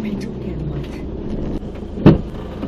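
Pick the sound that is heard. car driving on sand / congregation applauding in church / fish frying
car driving on sand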